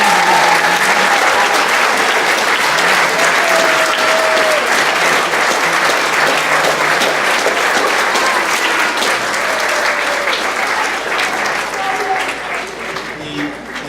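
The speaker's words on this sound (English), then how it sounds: "we're going to start with a huge round of applause for these two players" A large audience at an Old Town Academy 8th grade graduation in 2018 gives a long, loud round of applause for two players, steady and dense before easing slightly near the end.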